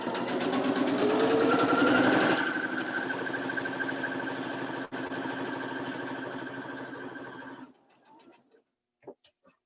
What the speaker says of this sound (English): Now I'm going to sew on both sides of the other X.